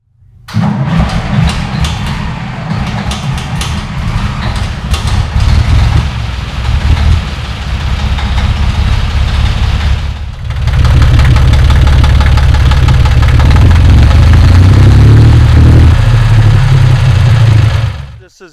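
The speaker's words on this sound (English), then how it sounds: "This one here is a 3-cylinder. It's a huge tractor. It's a heavy tractor" A big, heavy three-cylinder Deutz-Fahr tractor engine running up close, a loud, steady knocking chug that briefly dips, then returns heavier and deeper for the rest of the run.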